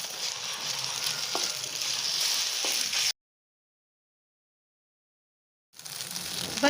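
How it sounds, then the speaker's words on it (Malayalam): Egg frying and being stirred in a pan with mustard seeds and turmeric while making Chinese noodles, a steady close sizzle with light stirring scrapes that cuts out midway and then resumes. "എന്നിട്ട് ഈ മുട്ട നമുക്കിതിലേക്ക് ഒഴിച്ചു കൊടുക്കാം. ഇത് നമുക്ക് ഇളക്കി കൊടുക്കാം."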